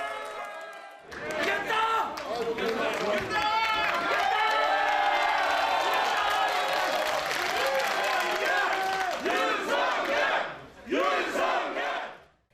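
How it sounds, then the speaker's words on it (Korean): Supporters of a Korean political party burst into loud cheering and shouting at a presidential election vote-count watch, a dense crowd roar with clapping that swells, briefly drops, then erupts again. "국민의힘은 환호성을 지르며 활기를 찾았지만"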